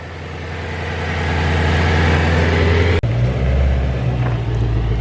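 A wrecked Ford Mustang GT350 runs at a steady, deep idle, a loud low rumble that holds evenly throughout with a brief break midway, close by and without talk.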